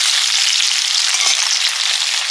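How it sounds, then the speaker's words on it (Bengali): Potatoes cut into chunks for ghugni fry in hot oil with a steady, close, bright sizzle that continues unbroken. "এই যে ঘুগনির আলুর মতো এই জন্য কেটেছি, ভেজে নেব।"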